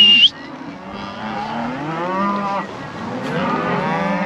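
Cattle on a ranch mooing loudly and close, long drawn-out lowing calls that overlap, with a brief high sound at the start and no talk.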